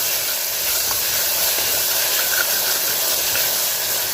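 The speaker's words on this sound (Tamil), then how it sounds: "இப்போ இதில் 2 ஸ்பூன் இஞ்சி பூண்டு பேஸ்ட் வச்சுருக்கேன், அதையும் சேர்த்துக்கலாம். அதையும் சேர்த்து நல்லா வதக்கிக்கிறேன்." Ginger garlic paste sautéing with onion and tomato for a beef biryani gravy gives a steady, loud broadband sizzle that hisses evenly throughout with no talking.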